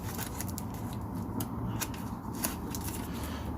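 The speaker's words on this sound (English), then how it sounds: "Probably the worst scissors to use opening a box" Scissors cutting open a cardboard box, heard as a series of close, irregular snips and scraping crunches of cardboard over a continuous low background rumble.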